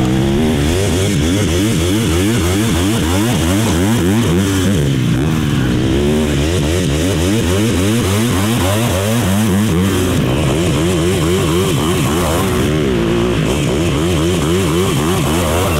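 A two-stroke dirt bike on a supercross track howls loud and close as it revs hard out of a turn, held near wide open, the engine note rising and wavering with a brief dip before climbing again.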